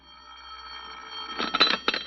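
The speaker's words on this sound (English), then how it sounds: "you sit at home quietly in the chair by the phone, waiting for it to ring" A telephone bell rings twice in quick bursts, loud and close, in a 1946 radio drama episode of The Whistler. The rings break a quiet, steady room hum, and no one speaks.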